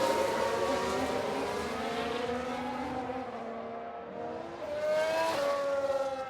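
An Aston Martin race car in F1 Manager 2022 drives past with a high, rising engine whine that fades and then builds again as the car accelerates, heard alone without talk.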